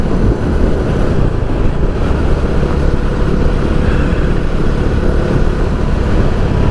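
A Bajaj Dominar 400 motorcycle cruises along an expressway, engine drone buried under loud, constant wind rush across the rider's microphone, steady and unbroken throughout.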